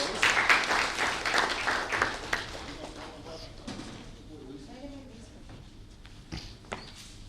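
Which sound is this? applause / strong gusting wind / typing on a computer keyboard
applause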